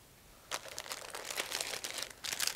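Quiet, continuous paper crinkling and rustling as a card envelope is torn open and handled, with irregular bursts of crackle and no talking.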